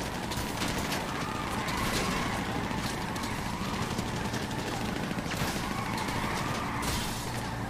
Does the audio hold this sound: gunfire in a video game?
yes